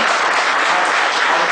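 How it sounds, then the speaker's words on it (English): Audience at a Chartered Accountants' Day celebration applauding, a loud, dense and uniform wash of clapping from many hands, sustained evenly across the short stretch without any voices standing out. "A big applause"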